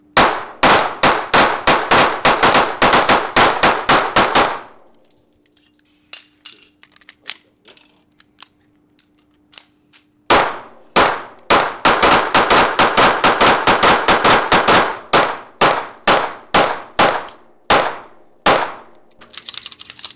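A Sig Sauer P365 AXG Legion pistol fires in two long, rapid strings of sharp, loud, close shots with ringing clangs. A quiet pause with faint clicks and small sounds separates the strings.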